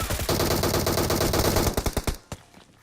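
Automatic gunfire from PUBG Mobile crackles in a rapid, loud burst, then slows into a few separate shots and one last isolated report before fading out.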